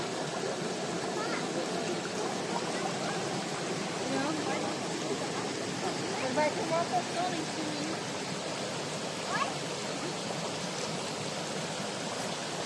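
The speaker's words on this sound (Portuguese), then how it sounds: "hoje nós começamos o vídeo aqui nessa cachoeira, né? Nesse rio maravilhoso" A waterfall and river pour in a steady, broad rushing roar at a natural site in Brazil, constant and fairly close with no pauses.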